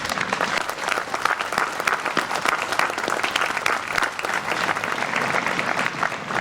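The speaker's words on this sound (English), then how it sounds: "Please give yourselves a round of applause." Audience applause at an outdoor Memorial Day ceremony, a dense, steady wash of many hands clapping for the full stretch at even loudness, with no talk over it.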